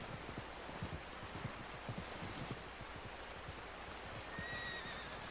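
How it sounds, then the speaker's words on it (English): Horse from Red Dead Redemption 2 whinnying and clip-clopping amid steady wind and surf-like ambience, with hoofbeats in a loose irregular rhythm at moderate distance and no talking. "I think I hear horse hooves."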